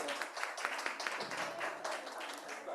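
An academic panel audience applauds, a dense patter of many hands clapping at moderate distance, continuous and fairly soft for the whole stretch.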